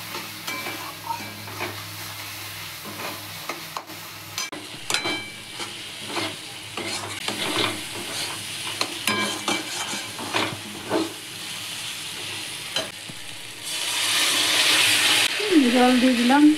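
Fried potatoes and a pinch of sugar are stirred into sizzling spice masala for rohu fish kofta curry, with repeated scraping stirs over steady frying, then a louder burst of sizzle as water goes in near the end.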